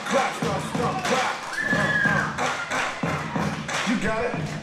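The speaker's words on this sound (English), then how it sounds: "Stomp your feet and clap your hands with me." Crowd at a wrestling event in Eldon, Missouri stomping feet and clapping hands in a loud, rhythmic beat of thuds and claps, with shouting voices and talk over it throughout.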